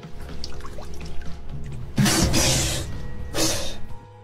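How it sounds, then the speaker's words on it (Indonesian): Water leaking into a damaged boat's hull, heard as two loud rushing bursts of pouring, splashing water over a low background of faint drips and trickles, with no voices. "badan kapal mengalami kebocoran dan air mulai masuk ke dalam kapal tersebut"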